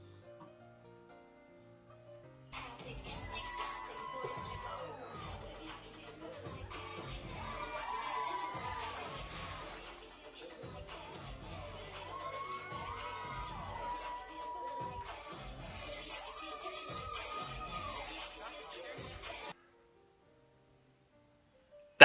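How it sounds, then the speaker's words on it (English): Crowd of protesters gathered outside a drag event, a dense mass of shouting and cheering voices with rising whoops and chanting swells, fairly loud and continuous, then cutting off abruptly. "It attracted a crowd of protesters."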